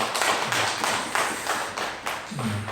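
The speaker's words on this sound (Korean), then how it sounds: "주님 앞에 영광의 박수 올려드리겠습니다" Church congregation clapping in praise during a Sunday worship service, loud steady rhythmic claps in a repeating beat, with faint low voices or music underneath.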